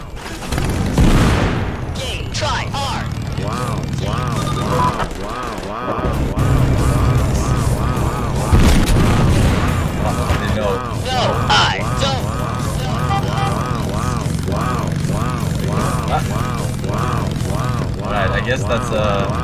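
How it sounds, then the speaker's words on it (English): Airstrike explosions rumble in Totally Accurate Battlegrounds, a continuous loud barrage of booms and gunfire under game noise and excited talking. "Rare airstrike!"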